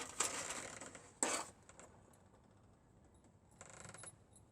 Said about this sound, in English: I'm going to throw them in the box just to form a little bit of a spine